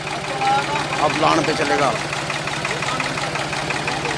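A Preet 4549 tractor with a Kirloskar engine runs at a steady idle nearby, a continuous mid-pitched rumble and knock, while someone speaks over it.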